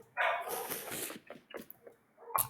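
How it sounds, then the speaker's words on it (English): Dogs bark in a few quick, loud yips and woofs, close by and fairly sharp, with short gaps between them. "So while the dogs are barking"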